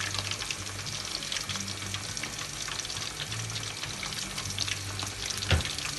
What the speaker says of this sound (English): so that every side is all well fried with the oil and coated it well